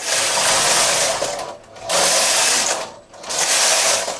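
A knitting machine fitted with an intarsia carriage knits three rows for a hat with a Fair Isle brim, with two long loud mechanical whirring passes and short dips in between.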